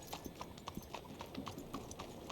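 Horse hooves clip-clop in a steady walking rhythm in the Red Dead video game, faint and even, with no talking over them.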